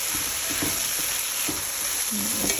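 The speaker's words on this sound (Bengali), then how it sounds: "সুন্দর ভাজা মতো হয়ে গেছে, তেল উঠে আসছে ডালের উপরে।" Dal fries in oil in a pan as it is stirred, a dense, steady sizzle with occasional soft scraping strokes, close and continuous throughout.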